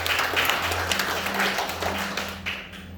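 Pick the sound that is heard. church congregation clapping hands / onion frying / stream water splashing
church congregation clapping hands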